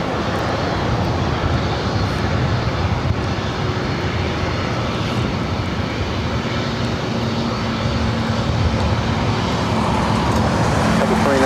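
Jet aircraft engines roar continuously and loudly at LAX airport in a broad steady rumble that lasts throughout, with faint voices underneath.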